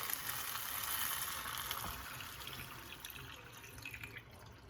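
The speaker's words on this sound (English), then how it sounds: "you're going to go ahead and pour the rest of your water" Water poured into a pot of rice while cooking lemon white rice, a steady, soft splashing pour that runs throughout at low volume, with no voices.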